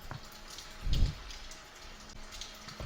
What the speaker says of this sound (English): My water's boiling over.